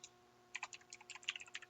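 A noisy computer keyboard typed on in close, crisp clusters of keystrokes, one tap then a short pause before a busy run of clacks, with no talking.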